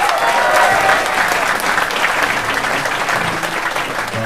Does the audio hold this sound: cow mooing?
no